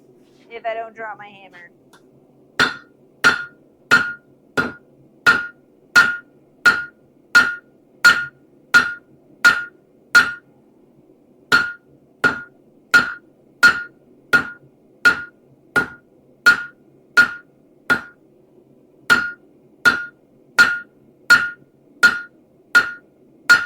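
A hammer strikes hot steel at a forge while punches and chisels are tempered, sharp ringing blows falling in a steady, even rhythm, loud and close, after a brief voice at the start.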